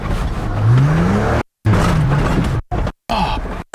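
An off-road vehicle roars hard as it hits an obstacle too fast, with loud engine strain and rough thuds broken by sudden cuts of silence.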